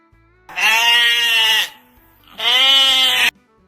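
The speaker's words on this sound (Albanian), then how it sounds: "Delia." Two loud, close sheep bleats, each about a second long with a trembling, nasal quality, separated by a brief pause.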